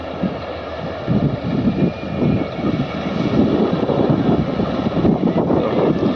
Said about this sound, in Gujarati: હાર્વેસ્ટર આવે છે, કાપતું કાપતું નજીક આવી રહ્યું છે